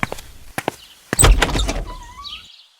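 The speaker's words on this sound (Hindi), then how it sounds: "मैंने दरवाजा खोला" A few sharp knocks and clicks, then a door slides or swings open with a scraping rush, fading into a faint squeak.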